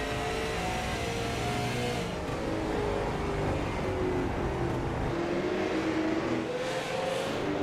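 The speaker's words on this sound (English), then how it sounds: "they do not slam the throttle at all in these cars." A late model stock race car engine drones at a steady, moderate pitch without hard revving, heard from some distance over continuous track noise at Five Flags Speedway.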